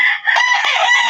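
A rooster crows loudly and close by in one sustained, wavering call, with a faint cluck from a hen nearby, in a backyard chicken pen.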